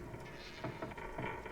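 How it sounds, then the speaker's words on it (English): Submarine hull creaking inside Silent Hunter III while surfacing: low groaning creaks recur at a steady pace, moderately loud, over a constant background hum, with no talk. "We're sure creaking a lot."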